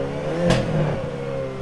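A 2023 Hyundai Elantra N's engine gives a short, close revving burst as the car is started and moved, settling into a steady low drone.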